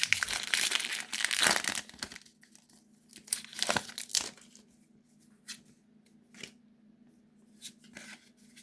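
Crinkly plastic wrapper of a trading card booster pack being torn open and handled, loud crumpling at first, then sparser rustles and soft card shuffles, with no talking.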